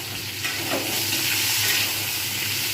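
Pumpkin pieces fry lightly in a pan with a continuous, gentle sizzle and occasional stirring scrapes. No voices are heard.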